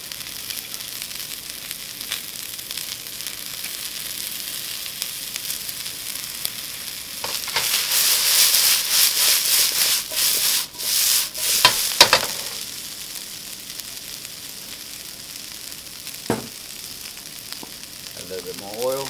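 Broccoli and natural chicken sausage stir frying in a hot pan with oil, a constant sizzle that swells loudly midway as the food is stirred and tossed, then settles back to a softer crackle.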